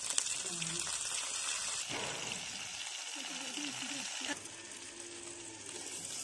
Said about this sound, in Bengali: এখন পটলগুলো তেলের মধ্যে ভেজে নেব।